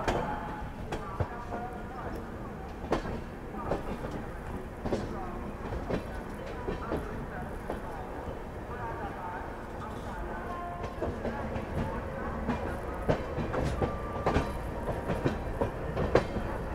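Puja Special passenger train pulling into platform number 1 at a busy Indian railway station, a steady broadband rumble with scattered clanks and wheel knocks throughout, overlaid with station bustle and people talking.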